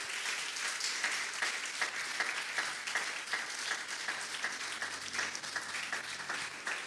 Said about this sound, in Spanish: ahora sí les damos un fuerte aplauso a los dos